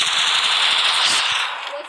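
Rapid gunfire from the Free Fire battle royale game, a dense continuous burst of loud, hissy shots with faint talk underneath, tapering slightly toward the end.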